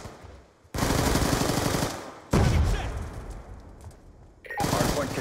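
Video game gunfire in a competitive team match: long, dense bursts of rapid automatic shots, loud and close, cutting in and out abruptly with short pauses between them.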